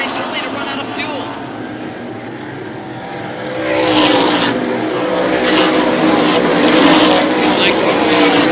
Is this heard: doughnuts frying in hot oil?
no